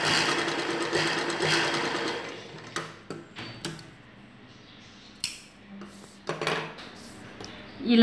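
A sewing machine stitches blouse fabric, running in a loud, fast whirring burst before giving way to scattered clicks and handling sounds nearby.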